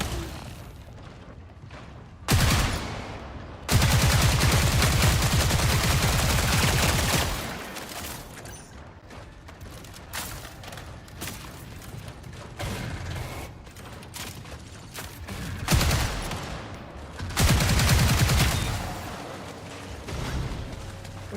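Gunfire during a raid in a video game, dense bursts of loud automatic fire and booming blasts alternating with quieter clanking mechanical stretches over about twenty seconds, with no talking.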